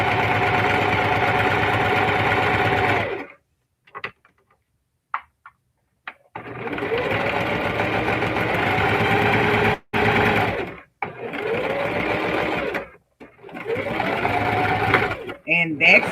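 A Singer Heavy Duty sewing machine stitches a crossbody bag in loud, close bursts of rapid mechanical whirring, several runs separated by short pauses and quiet handling noises.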